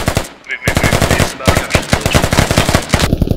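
Sustained automatic gunfire in the video game Squad, a loud, close, rapid stream of evenly spaced shots with brief pauses between bursts, while a voice speaks briefly over it.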